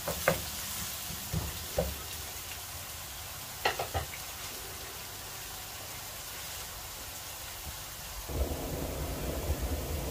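Finely chopped onions fry in a pan for a turnip bharta, giving a low, steady sizzle broken by occasional spatula scrapes and knocks, with the frying growing louder near the end and no talking.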